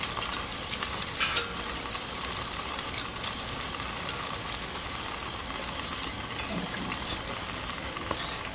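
Kunji kalathappam, a small Malabar snack, fries in oil while more hot oil is spooned over the top, giving a continuous even sizzle with light crackles and faint scraping of the spoon.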